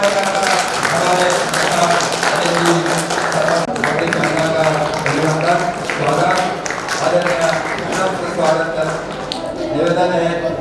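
Audience applause at a chess tournament prize ceremony, continuous clapping throughout about ten seconds under someone speaking into an amplified microphone.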